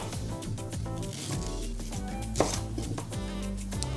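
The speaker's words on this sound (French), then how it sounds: "je vais couper le gingembre et le curcuma" Ginger and turmeric cut into small pieces, with quick knife chops on a board under steady background music, one sharper cut standing out, close and clear.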